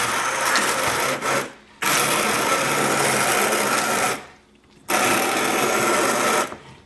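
Hummus with garlic being ground in a food processor: loud buzzing motor runs in three long bursts separated by short pauses, steady and close, with no voices.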